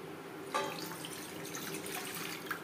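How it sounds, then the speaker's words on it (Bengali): Water is poured into a pot while homemade chicken biryani cooks, giving a steady, soft splashing stream that starts with a brief burst and runs on faintly, with no talking. "দিয়ে দিলাম জল"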